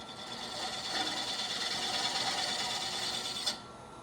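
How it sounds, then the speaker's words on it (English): A small carbide square scraper shaving wood from a handmade canteen flask, held at an angle and taking a little at a time, makes a soft steady rasping scrape for a few seconds, then cuts off abruptly. "I'm going to come in with a little square scraper, a little carbide at an angle, and take just a little bit at a time away"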